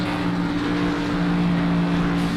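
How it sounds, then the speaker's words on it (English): A race car engine drones steadily at close range while doing victory donuts on the front stretch at Five Flags Speedway, a continuous loud motor roar with a sustained tonal hum and no pauses. "as Lapsevich comes to a stop here on the front stretch for victory lane, doing some winners donuts."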